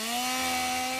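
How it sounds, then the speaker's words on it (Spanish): A chainsaw runs at a steady pitch, its loud, continuous buzzing drone filling the brief moment with no other sounds. "Motosierra suena a esta hora."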